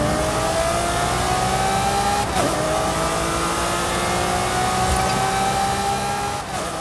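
A fast car called the Brocky in a racing video game, its engine revving high and steady with a rising pitch, loud and close, with a brief tire scrub partway through.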